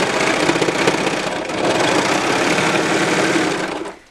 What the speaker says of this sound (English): I'm just using my hand to hold everything flat as it feeds through the serger.